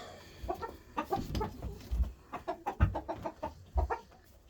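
Chickens cluck close by in a coop being readied for a snowstorm, a busy run of short overlapping clucks and low thumps of movement throughout.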